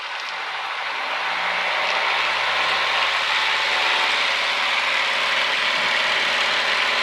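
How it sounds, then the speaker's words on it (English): Piper Cherokee single-engine aircraft at full power on its takeoff roll from runway 22, a steady loud broadband engine and propeller roar rising slightly in the first second, then holding constant, heard from inside the cabin with no talk. "Engine's making power."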